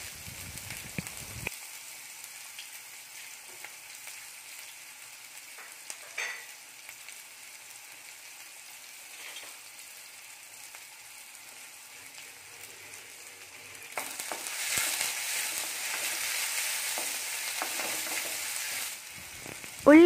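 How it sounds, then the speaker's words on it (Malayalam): Chopped onions hit hot coconut oil in a pan with already popped mustard seeds, a steady soft sizzle that swells louder and fuller partway through as the onions are stirred, with no talking. "കടുക് പൊട്ടിയതിനു ശേഷം മുറിച്ചു വെച്ച വലിയുള്ളി അതിലോട്ടിടുക."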